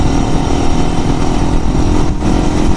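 A Chinese motorcycle engine runs with a loud, rough, steady mid-range drone, close and continuous, with slight fluctuation in throttle.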